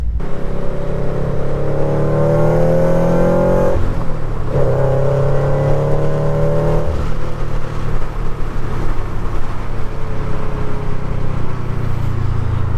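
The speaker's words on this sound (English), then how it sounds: "Maybe you can hear the supercharger, maybe you can't." A loud supercharged Scion FR-S engine with a Cosworth supercharger drones steadily while driving, its pitch rising through manual gears with a brief dip between shifts and a constant whirring hum.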